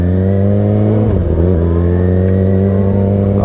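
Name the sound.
450 dirt bike engine revving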